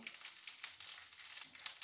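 Hot coconut oil crackles and sizzles steadily with small pops, red chillies frying up close in a pan; no voices.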